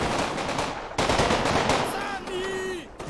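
Machine gun bursts rattle in the WWII strategy game Combat Mission Rome to Victory at Riva Ridge, dense rapid fire with a brief break, mixed with battle noise and a tonal whine near the end.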